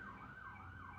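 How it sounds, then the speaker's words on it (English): Emergency vehicle sirens wail outside, a faint, steady rising and falling tone heard from a distance indoors. "Sorry about the sirens, guys."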